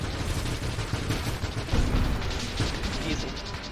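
A boss ship in the space shooter Nova Drift firing volleys of shots, with repeated bursts of blaster fire and impacts that form a busy, loud, continuous barrage.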